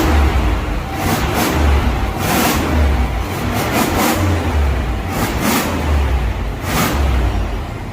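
A 7.0L V8 engine on an old-school American car revs in repeated bursts before a straight pipe exhaust is fitted, loud and close, with the rough idle rumbling between blips.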